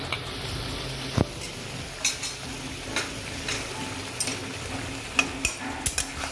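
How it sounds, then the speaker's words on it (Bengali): Fried eggs being stirred and sautéed in a simmering egg curry: a continuous sizzle under repeated scraping and clinking spoon strokes against the pan, spaced irregularly, with no voices. "দিয়ে আবার একটু কষিয়ে নিচ্ছি।"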